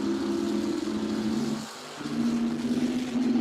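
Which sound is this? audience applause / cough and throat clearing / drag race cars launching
drag race cars launching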